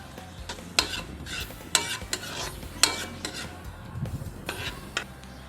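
Ginger, onion and garlic sauté in a pan for ginataang kamias, a low continuous sizzle under several sharp scraping and clinking stirs of a utensil against the pan, close and moderately loud.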